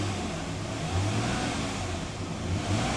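A 3.7-liter Dodge Dakota engine gets a quick blip of throttle, a steady mid-pitched hum that swells slightly and then settles. The truck has a fault that keeps it from revving past 2500 RPM.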